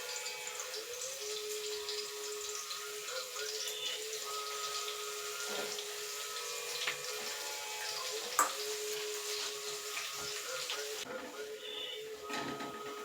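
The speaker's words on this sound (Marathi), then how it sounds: "तेल थोडं गरम झालं की आपण याच्यामध्ये हे वाटलेलं लसण टाकून देणार आहे" Crushed garlic sizzling in hot oil in a pan makes a steady, even hiss and crackle throughout, with one brief sharp tick partway through and no speech.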